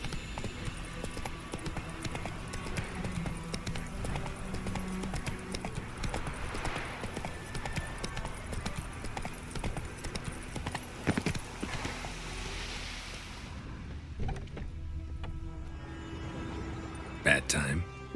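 Horse hooves clip-clop steadily as a horse is ridden in The Witcher 3, a rhythmic trot running throughout beneath voices and game ambience, with a brief whinny and some clatter near the end.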